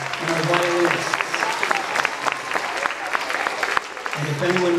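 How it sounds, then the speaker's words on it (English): A crowd in an elementary school gym at a Maypole event applauds the cellists and violinists, with clapping that is steady and moderately loud and a voice talking over it at the start and end. "If we can please give a huge Highview round of applause to Miss Longo and our cellists and our violinists."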